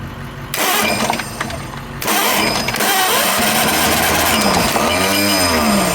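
Old pony starter engine firing up after a brief quiet gap, catching with a loud, harsh mechanical clatter and then running steadily at close range, its pitch wavering as it settles.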